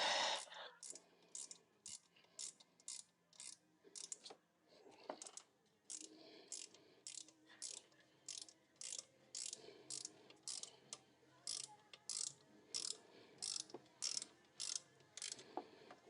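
Hand ratchet driving bolts back in on a 2005 Cadillac STS during a 100K service, rapid bursts of clicking pawl strokes repeated in an even rhythm, close and crisp, with brief pauses and a faint voice.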